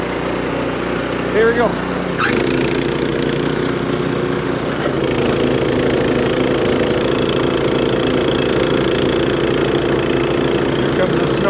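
Briggs and Stratton snow blower engine catching and running, a loud, steady chugging drone that settles into a continuous idle after the start, with someone speaking briefly near the beginning.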